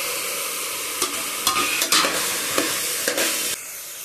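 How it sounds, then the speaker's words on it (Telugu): Potato pieces and soaked peas fry in a pan for an aloo matar curry. The steady loud sizzle carries several short scraping stirs, and nobody talks. "ఇవి కొంచెం మగ్గుతానే ఆలగడ్డ ముక్కలు వేసుకోవాలి."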